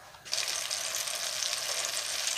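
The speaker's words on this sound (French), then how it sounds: "je vais remettre un petit morceau de beurre" A small knob of butter hits a hot frying pan and bursts into a loud, steady crackling sizzle that holds without a break after a quiet moment at the start.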